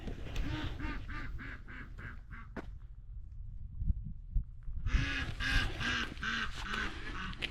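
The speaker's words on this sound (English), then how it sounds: "Yep, ducks are still here." Ducks quack in repeated bursts on a winter calving ranch in Montana, loud and close, with a short lull before a denser, louder stretch of overlapping quacks.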